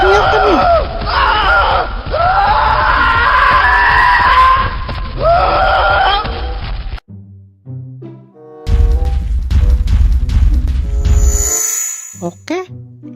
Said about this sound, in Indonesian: sekarang kita coba dengarkan suara teriakannya